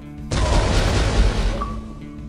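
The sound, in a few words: chain explosion in a cowboy video game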